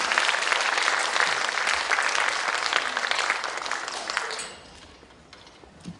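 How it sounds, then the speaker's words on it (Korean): Audience applause in a concert hall at a children's composition showcase, a full, even wash of clapping that holds steady for about four seconds and then thins out and fades away. "큰 박수로 부탁드리겠습니다"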